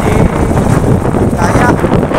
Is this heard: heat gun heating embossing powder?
no